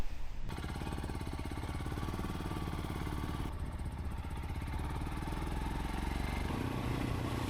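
Royal Enfield Himalayan motorcycle riding in Iceland, its single-cylinder engine thrumming steadily and close with a rhythmic pulse, plus wind noise across the run and a brief shift in tone partway through.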